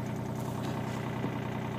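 A tractor engine used for fall plowing runs steadily in a constant low, even chug, faint and somewhat distant, with no other sounds breaking through.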